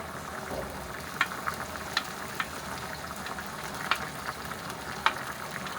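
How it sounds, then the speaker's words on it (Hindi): Green onions fry in hot oil in a pan, making a soft, steady sizzle with a few light crackles and pops, quiet and close, with no talking. "एक मिनट प्याज को फ्राई कर लेते हैं"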